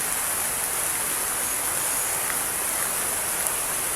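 Dense, unbroken rain pours hard, a loud even wash of hiss close by with no voices or pauses.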